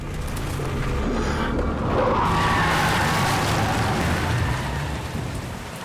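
Heavy storm rain in the Silent Hill video game, pouring as a dense steady hiss while the protagonist drives his truck, with a low rumble underneath and no voices.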